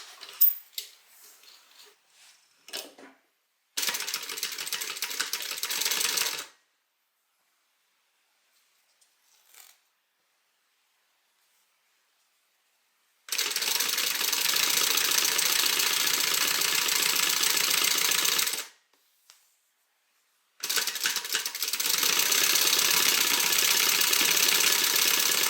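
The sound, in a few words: sewing machine stitching on a fabric piece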